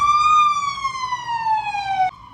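An emergency vehicle siren in a street sounds loud and close, one long wail sliding steadily downward in pitch, then cutting off abruptly near the end.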